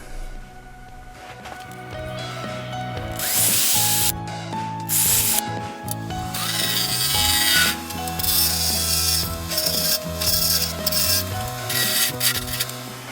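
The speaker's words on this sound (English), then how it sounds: "now we're going to drill the hole for the wire to sit in" A power drill whines steadily, its motor pitch shifting as it bores a wire hole through turned wood on a lathe, with a few short pauses and restarts along the way.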